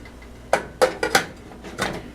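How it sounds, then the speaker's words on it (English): A pot holding oils, butters and waxes for body lotion is set onto a double boiler, giving several close metallic clanks and knocks in quick succession, then a final bump. "then you go ahead and put them on the double boiler"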